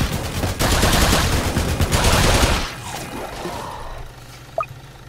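Machine gunner towers in the Roblox game Tower Defense Simulator fire rapidly in a loud, dense stream of gunfire for a few seconds, then stop, leaving faint ambient game sound and a small click.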